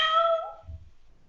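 A human voice imitates a cat, giving a single drawn-out meow that falls away after about half a second, followed by faint low rumble.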